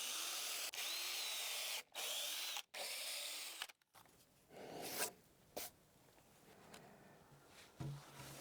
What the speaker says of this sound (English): we'll pre-drill Those, and we'll do that for each side of these 2 boards